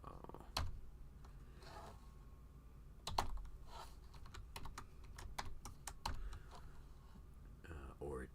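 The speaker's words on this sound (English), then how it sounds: "let's go type that over in the Raspberry Pi" Computer keyboard typing as commands are entered on a Raspberry Pi, with bursts of sharp key clicks and a few louder taps spread across the clip, close and fairly quiet, with soft breathy speech-like noise underneath.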